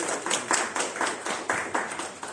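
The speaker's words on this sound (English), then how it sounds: "Let's all give a round of applause." Short round of audience applause at a tech meetup, brisk clapping with distinct individual claps close to the microphone, lasting a couple of seconds.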